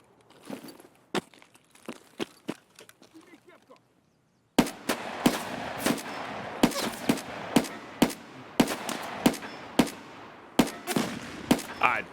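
Single-fire shooting in the video game Escape from Tarkov: a few quieter shots, a pause, then a long run of loud, sharp single shots spaced at a steady, slightly uneven pace, with a voice at times.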